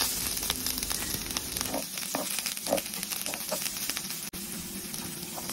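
Onion sautéing in olive oil in a pan for a tuna dish cooked in coconut milk makes a continuous, fairly loud crackling sizzle close by. It carries scattered soft pops and a brief dip in level toward the end, with no voices.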